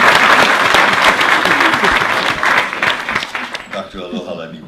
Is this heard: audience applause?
yes